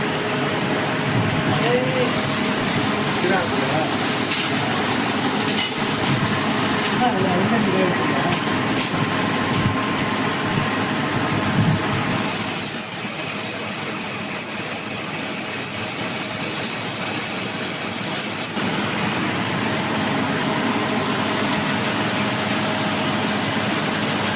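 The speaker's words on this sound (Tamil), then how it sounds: "வெல்டிங் பார்க்கலாம்." A laser welding machine runs with a steady mechanical hum and fan-like drone, joined midway by a bright hissing burst of several seconds, while someone talks over it.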